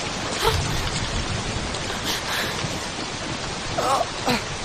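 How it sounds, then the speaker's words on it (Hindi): Steady rain hisses and patters throughout, with faint voices briefly audible in the background. "बीच में बारिश कहाँ से आ गई?"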